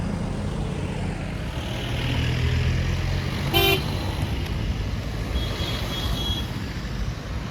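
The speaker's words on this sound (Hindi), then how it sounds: "रेगुलर गाड़ी निकलती जा रही हैं काफ़िले में" A long convoy of campaign cars rolls past in an election rally procession, a steady wash of engines and traffic with a short, sharp horn toot near the middle and fainter honks later.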